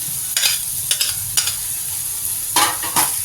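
Boiled potato and paneer frying with onion, garlic and ginger in a pan, a constant close sizzle broken by several sharp bursts of stirring and scraping.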